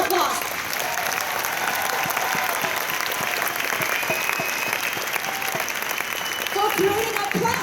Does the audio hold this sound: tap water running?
no